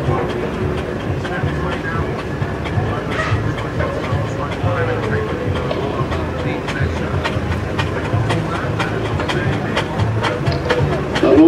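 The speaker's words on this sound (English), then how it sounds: "they're miniature steam engines." Miniature steam engines parading around an outdoor show arena at a steam and craft fair, with rhythmic chuffing and mechanical clatter under a busy crowd and voices talking nearby.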